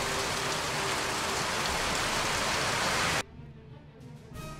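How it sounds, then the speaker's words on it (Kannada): Heavy rain pours down in Udupi, Karnataka, during a cyclone, making a loud, dense, steady roar that cuts off abruptly after about three seconds and leaves a quieter background. "ಉಡುಪಿ ಜಿಲ್ಲೆಯಲ್ಲೂ ನಿನ್ನೆ ಸಂಜೆಯಿಂದಲೇ ಭಾರಿ ಮಳೆಯಾಗ್ತಿದೆ."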